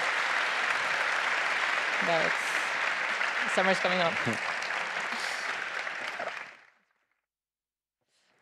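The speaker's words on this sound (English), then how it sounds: "applause for Ivan Rakitic." An audience at the World Football Summit claps steadily and loudly for several seconds while a voice speaks over it, then the applause cuts off into silence.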